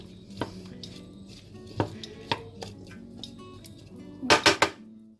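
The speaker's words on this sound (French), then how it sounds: "Et on mélange nos pommes de terre avec les oignons." Potatoes and onions stirred in a pot with a spoon, giving a series of sharp knocks against the pot at uneven intervals, then a quick cluster of louder scraping clatters near the end, close by with no talking.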